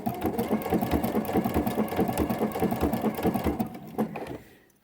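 A sewing machine runs a decorative stitch along the bulky binding edge of a quilt, with a fast, even mechanical chatter that is close and steady before it slows and stops near the end.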